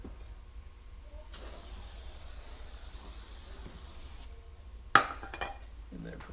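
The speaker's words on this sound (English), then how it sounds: "I'm using the mousse silicone spray on the bead." A can of silicone spray hisses onto a motorcycle rear tire bead in one steady burst lasting about three seconds, followed by a sharp clunk and faint handling noises nearby.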